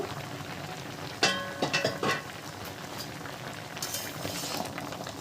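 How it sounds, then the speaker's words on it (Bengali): Taro leaves boil in water in a covered pot, making a steady bubbling hiss, with a few soft knocks and rattles in the middle. "এবারে আমি ঢেকে সিদ্ধ করে নেব"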